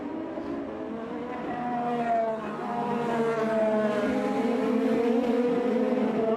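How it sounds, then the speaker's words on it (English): IndyCar race cars passing on the Houston street circuit during a race, engine notes rising and sweeping in pitch as the cars approach and go by, loud and sustained. "Has finally moved over and allowed Takuma Sato and his Andretti Auto Sport teammate James Hinchcliffe by"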